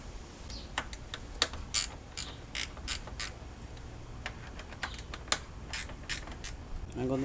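Ratchet work while removing the radiator fans on a 2014 Honda Civic Si, with rapid metallic clicks in quick bursts, close up over a steady low background hum.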